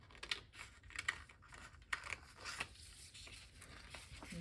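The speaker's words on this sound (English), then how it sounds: "I'm going to cut it that way." Sheet of paper being cut with scissors at close range, a run of crisp snipping and slicing sounds with brief faint rustles between cuts and no talking.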